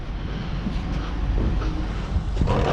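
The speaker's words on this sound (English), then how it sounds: "Sorry about the wind, it's really windy today." Strong, steady wind buffets a microphone outdoors at a dumpster site, a continuous low roaring rumble with gusty swells throughout and no voices.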